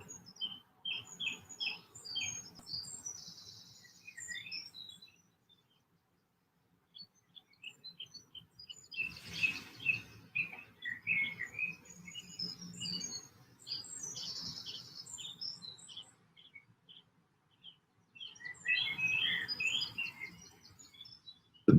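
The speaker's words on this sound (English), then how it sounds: "The birds are greeting us" Birds chirping outside an open window, bright tweets and squawks arriving in bursts with quiet pauses between, moderately faint and a little distant, with no voices.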